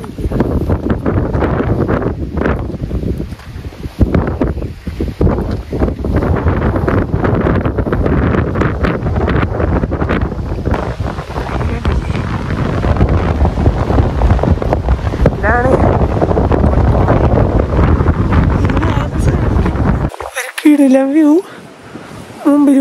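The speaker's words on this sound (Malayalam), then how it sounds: "ഭയങ്കര സൗണ്ട്. അല്ല ഇത് കാറ്റാണോ? എന്റെ അമ്മു, ഇവിടെ മാത്രം ഒരു കാറ്റ്" Strong wind on the Kolukkumalai hilltop, reached by an off-road jeep, roars and buffets the microphone loudly and continuously, with a brief drop near the end and a voice faintly heard.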